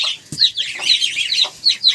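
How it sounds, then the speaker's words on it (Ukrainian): Young goslings peeping in a farmyard, a quick string of high, thin calls repeated over two seconds, close and fairly loud, with no talk. "Гусенята, оце гусенята, йдіть."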